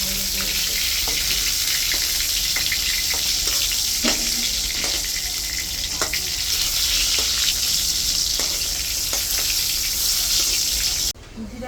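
Cumin, bay leaves and ground spice paste fry in hot oil in a pan, giving a steady close sizzle with scattered pops and crackles that cuts off abruptly near the end.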